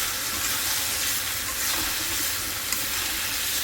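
Fish frying in hot oil in a home kitchen, the fish prepared with its head cut off, gives a steady, close, crackling sizzle that hisses evenly for the whole stretch, with no talking.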